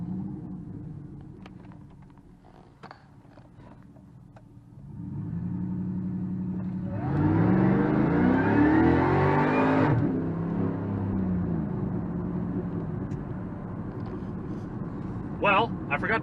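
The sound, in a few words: supercharged Cadillac Escalade launching, engine revving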